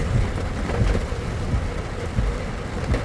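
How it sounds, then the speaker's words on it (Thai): Heavy evening rain pours down over a town crossroads, a steady, dense roar with no voices. "ฝนยังไม่หยุดเลย ตกแรงอีกต่างหาก"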